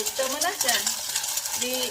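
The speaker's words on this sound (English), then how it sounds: "we just make sure that you mash it, really well in the frying pan" Steady stirring and scraping in a frying pan over a soft sizzle, a utensil mashing egg against the pan without pause.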